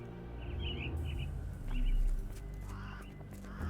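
Caged mynah birds call in the Sherlock Holmes The Awakened video game, a few short squawking and chirping calls over a low ambient background hum, moderately close.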